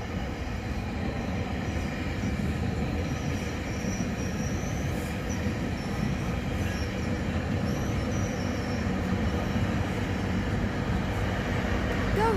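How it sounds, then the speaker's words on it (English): A Scarborough RT train passes close by, a steady loud rumble with a thin high whine from the wheels, lasting the whole stretch with only faint background talk. "Hi, train."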